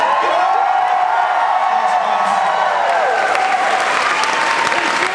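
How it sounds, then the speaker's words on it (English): A fan convention crowd at a Saban Brands Power Rangers panel at Power Morphicon 2012 gives loud, continuous applause mixed with cheers and whoops to welcome a new cast. "give them one big round of applause and show the fans that they are welcome"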